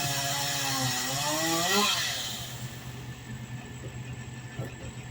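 A chainsaw cutting pine tree branches revs up loudly then settles into a steady droning buzz, with an engine-like pitch that rises and falls.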